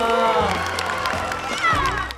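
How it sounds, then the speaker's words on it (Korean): A crowd at a Christmas-season idol fan event claps and cheers loudly and continuously after a call for applause, with lively voices and music mixed in close by. "박수 박수!"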